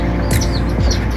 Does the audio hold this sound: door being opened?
no